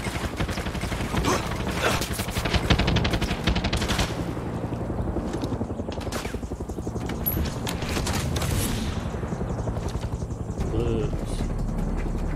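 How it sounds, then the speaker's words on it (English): A helicopter's rotor drones and thuds steadily throughout in Far Cry 6, loud and close, with sharp bursts like gunfire and clattering mixed in. "Gotta lose the helicopter, bro."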